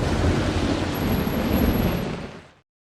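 A heavy thunderstorm with rain in the film Identity (2003) rumbles and hisses as a loud, dense wash of thunder and downpour, then cuts off abruptly.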